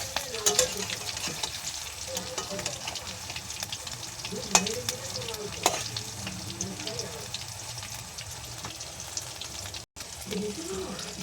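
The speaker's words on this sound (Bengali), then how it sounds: "চিকেনের পিসগুলো বড্ড বড় বড় হয়ে গেছে, তো জন্য একটু সময় নিয়ে নিয়ে ভাজতে হবে।" Large chicken pieces and pakoras frying in hot oil, a continuous crackling sizzle with occasional clinks and stirring scrapes of a utensil, close and moderately loud.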